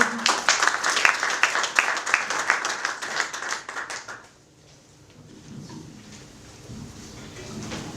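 An audience at an association's inauguration evening claps for the project leader, a dense burst of applause lasting about four seconds before dying away into quieter room sound with faint talk.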